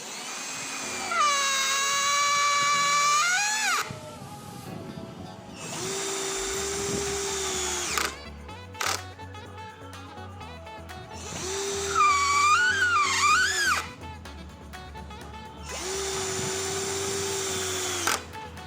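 Cordless impact drill with a Bosch screwdriver bit driving a screw, several loud whining bursts of the motor ramping up and down with trigger control, separated by short pauses and handling clatter.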